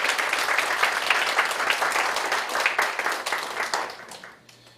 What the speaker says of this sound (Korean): 여러분 우리 어머니 환영하면서 우리 박수 한번 하시죠.